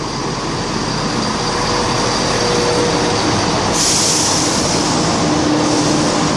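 Train pulling away from Needham Market station on the Great Eastern Main Line, a steady loud rumble and rail noise with a brighter hiss rising partway through.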